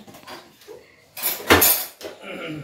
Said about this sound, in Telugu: ఈడేమో ఇద్దరు గిన్నెలు కడుగుతున్నారు